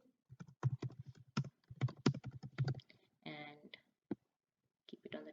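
Quick, close keystrokes on a computer keyboard type out a short heading, a brisk run of clicks followed by a few scattered taps, with brief faint noise in between.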